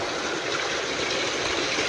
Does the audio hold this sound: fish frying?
no